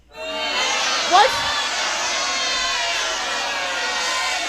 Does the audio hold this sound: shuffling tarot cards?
no